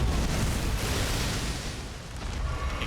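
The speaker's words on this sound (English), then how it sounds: "it's just a super big explosion" A huge explosion in Elden Ring: Shadow of the Erdtree erupts as a loud, broad roaring blast that fades slowly over a few seconds, with no talking.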